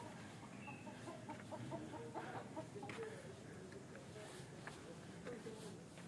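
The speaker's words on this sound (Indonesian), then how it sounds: "Ternyata di sini ada ayamnya." Chickens at a cliff with bamboo at the Kete Kesu heritage site in Toraja, clucking faintly in repeated short calls under the hum of the outdoor space, while a person talks quietly.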